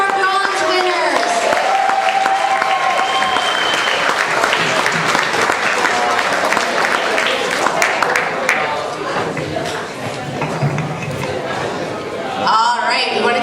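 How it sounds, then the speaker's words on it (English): Sustained crowd applause at a high school awards ceremony for bronze winners, loud and dense throughout, with cheering voices and chatter mixed in and a brief dip before a final surge. "Another big round of applause for our bronze winners."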